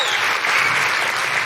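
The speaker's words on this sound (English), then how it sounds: "can you just quickly join me in giving a huge round of applause to Dr." A live talk show audience applauds in a brief, loud, steady burst of dense clapping with no break.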